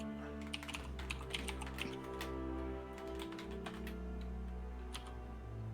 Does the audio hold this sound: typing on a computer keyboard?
yes